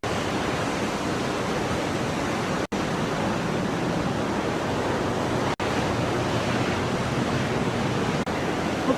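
Ocean surf rolls in a steady, dense wash of noise, loud and continuous with no clear breaks between waves, and no voices.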